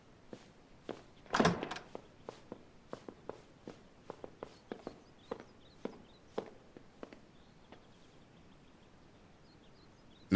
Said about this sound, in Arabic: سكر الباب